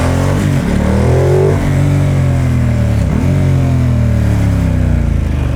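A loud, close 2021 Ducati XDiavel motorcycle engine revs and pulls, pitch climbing then dropping at gear shifts, with constant rumbling road and wind noise.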